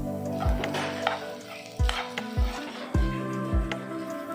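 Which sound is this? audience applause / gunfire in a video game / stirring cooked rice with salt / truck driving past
stirring cooked rice with salt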